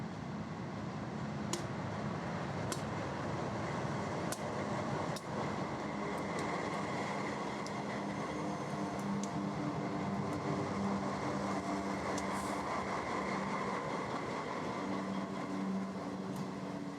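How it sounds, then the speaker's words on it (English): A CP train rolls through Yale, Canada, giving a steady, fairly distant rumble and wheel clatter that holds evenly with no voices. "The CP trains that roll through Yale"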